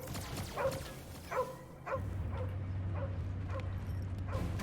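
Cosmo the dog in Guardians of the Galaxy gives a series of short barks and yips, about seven evenly spaced, mid-distance, over a low droning hum that starts partway through.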